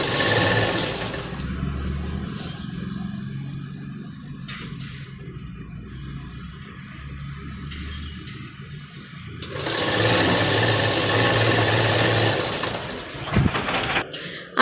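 A sewing machine stitches lined salwar fabric in two long bursts of fast, steady mechanical whirring, close and loud, separated by a quieter pause.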